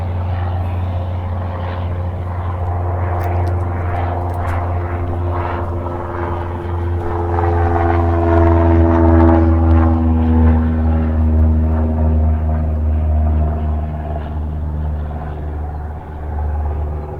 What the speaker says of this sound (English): most of these planes taking off are non-commercial